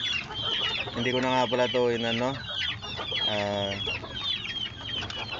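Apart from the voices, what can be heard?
chickens clucking in a backyard coop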